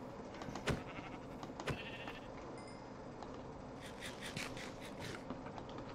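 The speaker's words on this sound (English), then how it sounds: "There's a sheep." Sheep in the Minecraft video game give several short, quiet bleats at uneven intervals over a low background of game ambience.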